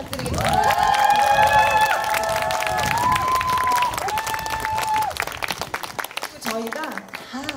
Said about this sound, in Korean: 지금까지 아야지 1, 2, 3리 노인회관 어르신들께 큰 박수 부탁드리겠습니다